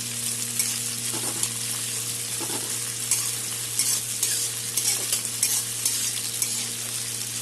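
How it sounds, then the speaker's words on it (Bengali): Fish fries in a hot pan with black cumin seeds while being stirred, a steady sizzle with scraping stir strokes throughout, close and alone. "মাছটা ভাজা ভাজা হবে"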